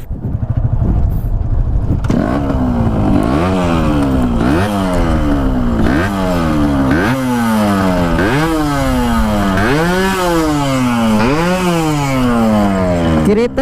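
A restored Yamaha RX two-stroke motorcycle engine, freshly started after a ground-up rebuild, revs loudly and repeatedly in rising and falling bursts, a raspy close-up idle and throttle blips continuing steadily with no talking.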